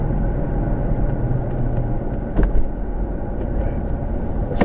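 A 2006 Volvo V70R wagon's turbocharged engine under boost, a steady low rumble from inside the car with a brief louder surge midway.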